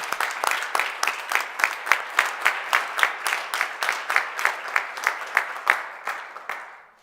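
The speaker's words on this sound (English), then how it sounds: "a big applause already for all of you." Applause at a startup pitch night, a smaller group clapping in a clear, regular rhythm of distinct sharp claps, close and crisp, holding steady for about six seconds before tapering off.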